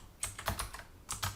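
Typing on a computer keyboard gives two quick bursts of soft clicking keystrokes separated by a short pause, close and quiet with no speech.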